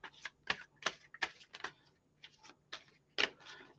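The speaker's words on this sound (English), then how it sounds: "Give this a nice little shuffle." Tarot cards being shuffled by hand, a run of sharp papery riffles and taps in quick irregular bursts, close and fairly quiet, with no voice over it.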